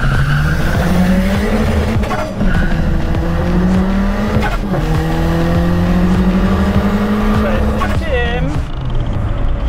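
Turbocharged Daewoo Matiz pulling hard on a measured acceleration run, its engine note rising steadily through the gears with brief dips at the shifts, loud and constant inside the car, with a voice heard briefly.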